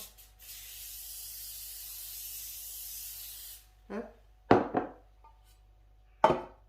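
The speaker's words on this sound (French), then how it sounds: "vous prenez un moule à cake que vous graissez. Donc moi je l'ai en spray" Cooking spray hissing into a cake tin, a steady close spray lasting about three seconds, followed by a few soft knocks and clatters as the tin is handled.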